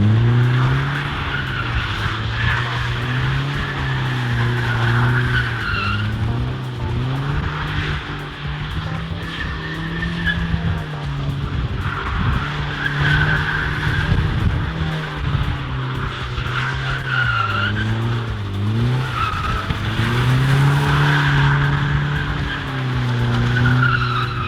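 A Nissan S14 240sx drift car slides around an empty parking lot, heard from outside with continuous tire squeal and skidding over a revving engine that rises and falls through repeated drifts.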